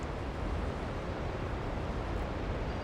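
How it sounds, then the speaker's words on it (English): Steady, dense roar of a giant waterfall in Genshin Impact, a loud continuous broadband rush of falling water without pauses or talk. "That water is very loud."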